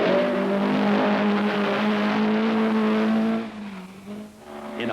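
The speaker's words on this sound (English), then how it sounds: "The Great Orme at Llandudno, and fastest here, Jimmy McRae in the Chevette" A 1979 Vauxhall Chevette rally car races past on the RAC Rally at the Great Orme, Llandudno, its engine loud and high-revving close by, then dropping away near the end.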